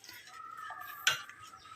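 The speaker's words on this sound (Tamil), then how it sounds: "இப்போ நம்ம அவரி பொடியை நல்லா மிக்ஸ் பண்ணி விட்டாச்சு, கலந்தாச்சு பாருங்கள்." A spoon stirs a mixture of avari (indigo) powder for hair dye in a bowl, with quiet scraping and one sharper clink partway through, faint and close.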